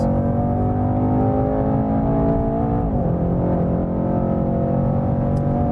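Mercedes E63 S AMG engine pulling hard at high speed on a racetrack, a loud, steady, droning roar with layered harmonics and a brief dip around a gear change midway.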